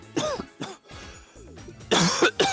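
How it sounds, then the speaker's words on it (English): Several harsh coughs come in separate bursts, two early and two close together near the end, with a short throaty sound between them. "a little bit of a cough still"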